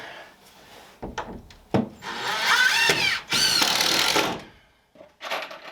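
Screws driven into wood with a power driver while building a solar inverter room, several short bursts and longer whirring runs close by, with no talking.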